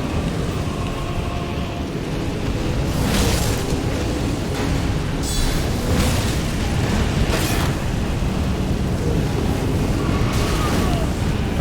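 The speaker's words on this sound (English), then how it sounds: "That's some sort of big explosion nonsense" Big booming explosions rumble through the Rykard boss fight in Elden Ring, several heavy blasts bursting over a constant roaring, crackling din, with a voice talking over the noise.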